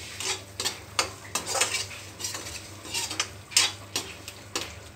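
Spices roasting on a low flame for a potato curry, with a metal spoon repeatedly scraping and clinking against the pan in an uneven rhythm over a soft, low sizzle.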